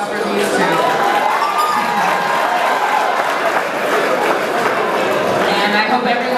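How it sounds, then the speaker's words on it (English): Guests applaud a couple at a pre-wedding dinner, loud continuous clapping and cheering from a packed room, with chatter and voices blended throughout. "Can we get a round of applause for these two?"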